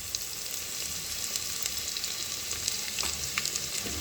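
Browned onions and ginger garlic paste fry in ghee, giving a steady, moderate sizzle with occasional stirring clicks, close by and without talk.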